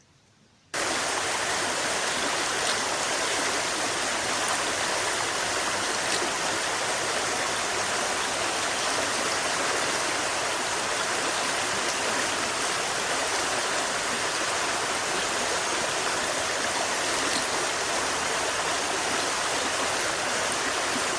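A river flows nearby with a constant, dense rushing roar that starts abruptly after a brief quiet moment and then holds steady throughout.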